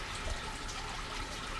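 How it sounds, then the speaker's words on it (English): Water from an aquaponics pump pours steadily into a garden bed, a constant close rushing and splashing flow with no pauses. "water is constantly flooding into this bed"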